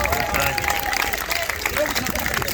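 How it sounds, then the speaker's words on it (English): Festival audience applauding Terry Smith at a vanlife gathering, a brief dense burst of clapping with a few whistles and voices mixed in. "so a round of applause for Terry"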